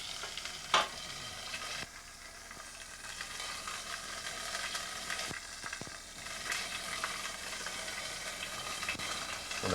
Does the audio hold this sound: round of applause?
no